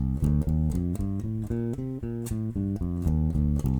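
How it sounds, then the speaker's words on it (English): A bass guitar plays a steady run of single notes stepping up and back down a C Dorian scale, clear and even, with no voices. "If I play a C Dorian scale, it sounds like this."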